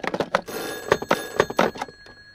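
Telephone bell ringing in a Hindi action movie, a few loud close trilling bursts in quick succession with no voices over them.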